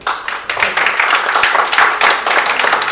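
Audience applause at an evening screening event for the Indonesian war film Surabaya 45, a dense, steady patter of many hands clapping, loud and close, with faint voices underneath.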